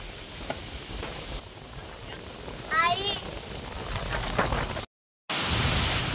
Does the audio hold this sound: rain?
yes